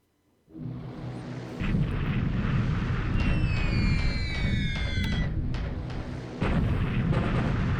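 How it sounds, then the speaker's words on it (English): Bombing raid on a port in a World War II Pacific naval strategy game: a sustained loud rumble of explosions and gunfire, with descending whistling tones over the barrage midway through. "He's bombing my port, but there's no ships in port"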